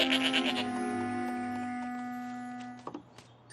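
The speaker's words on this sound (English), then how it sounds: "I actually really like how they added a goat here and called attention to it sort of by adding that sound effect" A goat bleats in a My Little Pony cartoon, one loud wavering cry held for about three seconds over a steady background tone, then a few soft clicks.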